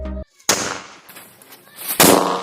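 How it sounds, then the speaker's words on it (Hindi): A firecracker set off by a remote-controlled firing machine bursts with a sharp, loud bang, followed by crackling and a second blast with a broad rushing tail, nearby and outdoors. "यहाँ पे पटाखा फट चुका है।"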